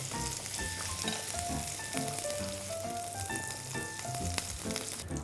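Shrimp frying in hot oil in a pan for a garlic and chili shrimp-fat pasta: a steady, even sizzle under tonal background music for the whole stretch.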